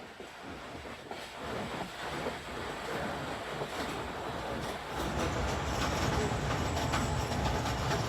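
The Tezgam Express pulling out of Sahiwal station in Pakistan, a steady rumbling rattle of rail cars with clickety-clack wheel beats growing louder as it gets under way, heard from on board with no talk.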